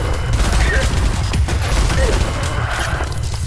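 Grenade blast in the shooter game ADACA, a loud sustained roar of explosion and gunfire-like crackle filling the whole stretch, with players' voices mixed in.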